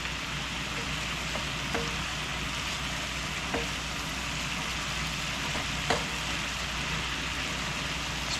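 A spatula stirs and scrapes reducing Tex-Mex food in a sizzling pan, with a steady frying hiss and a few faint scraping clicks spaced through it.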